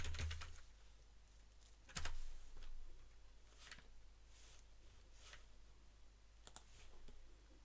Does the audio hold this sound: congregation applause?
no